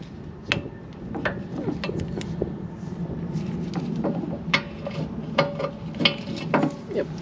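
A ratchet wrench loosens a 14 mm bolt on the rear brake of a raised 2003-2011 Honda Element, giving a run of sharp, irregular clicks close by over a low background hum.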